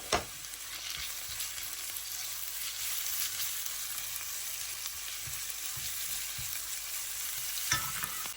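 Onions, green chilies, crushed ginger and garlic sauté in hot oil for a green apple chutney, a steady loud sizzle with frequent spoon stirring and a couple of clanks against the pan.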